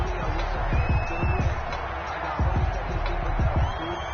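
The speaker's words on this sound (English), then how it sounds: "Well, this crowd does not like that call." Football stadium crowd at a Bills versus Patriots game booing and grumbling loudly after a roughing penalty flag, a dense continuous roar with irregular swells throughout.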